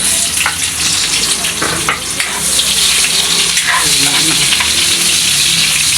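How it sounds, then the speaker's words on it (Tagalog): Garlic and onion sautéing in hot oil while fish sarsyado is cooked, with a loud, continuous close sizzle and occasional stirring scrapes; a faint voice is heard early on. "nabango na ang ating bawang kasi medyo sumog na siya"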